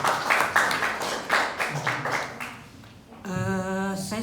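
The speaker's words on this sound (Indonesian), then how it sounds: "Tepuk tangan dong buat Mas Edwin." An audience claps for a presenter named Edwin, a series of distinct rhythmic claps that grow sparse and fade over about three seconds before a sustained musical tone takes over.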